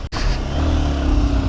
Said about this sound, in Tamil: வண்டி இன்ஜின் சவுண்டு சூப்பராக இருக்குது